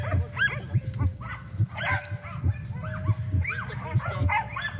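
Hunting dogs bark repeatedly at a boar in a rough outdoor chase, sharp overlapping yelps and woofs coming in steady bursts at close range with other voices mixed in.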